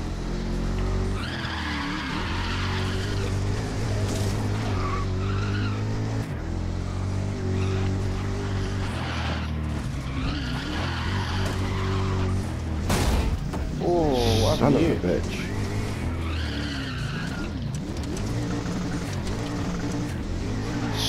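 Race cars in the GRID racing game skid and squeal their tires at length, with engines roaring up close and a crash thud near the middle, while players talk and swear over the noise.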